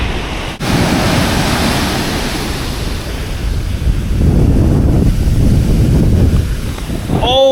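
Ocean waves rolling and breaking continuously on the rocky Pacific shore at Carmel and Big Sur, California, with strong wind buffeting the microphone throughout, surging louder toward the end.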